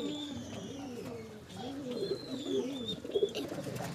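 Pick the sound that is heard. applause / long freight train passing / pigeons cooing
pigeons cooing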